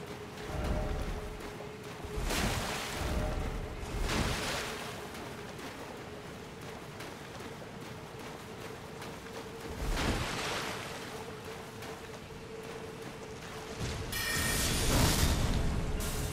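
Footsteps of a character running through water in Elden Ring, a continuous sloshing wash with periodic splashy surges over a steady ambient hum, with no talking.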